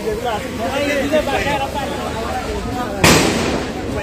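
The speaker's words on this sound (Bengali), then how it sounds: "সিলেটে মাউন্ট এডোরা হসপিটালের সামনে যে পুলিশের সাউন্ড গ্রেনেড চলছে" A police sound grenade bursts outside Mount Adora Hospital in Sylhet, one sharp loud blast cutting through a crowd's steady hubbub and voices during street unrest.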